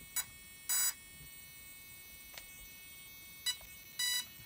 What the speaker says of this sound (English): because the beep is so annoying